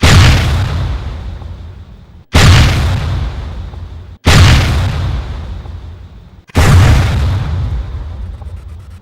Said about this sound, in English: Now it's loaded, and now we're ready to fire.